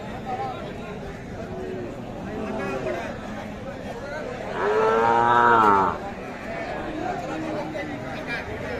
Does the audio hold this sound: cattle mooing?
yes